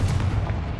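A Confringo blasting spell in Hogwarts Legacy explodes as a single deep, booming burst that rolls on for under a second, loud and close.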